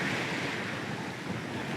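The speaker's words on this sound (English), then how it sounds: "We are cutting through some waves here. Getting a bit of splash." A sailing boat cuts through sea waves, throwing up splashes in a continuous broad wash of surf and wind noise with no voices.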